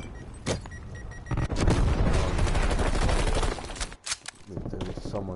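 Rapid bursts of gunfire in a Black Ops Cold War multiplayer match, dense overlapping shots and booms swelling loud in the middle of the clip, then breaking into sparser sharp cracks.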